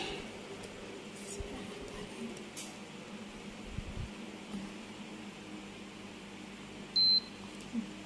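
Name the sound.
blood test meter beeping after blood is applied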